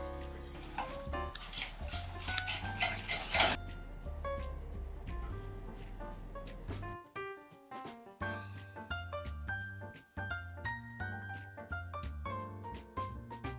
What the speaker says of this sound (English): I'm going to stir until everything is well mixed and melted.